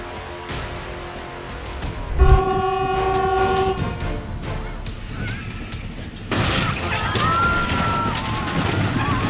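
A train approaches and sounds a long, loud horn blast, followed by rising rail noise and squealing wheels as it draws near, with a brief thump before the horn.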